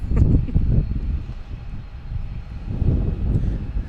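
A Delta Embraer E-175 arriving from LaGuardia comes in to land at Boston Logan on a windy day, a steady low engine rumble that rises and dips under gusting wind.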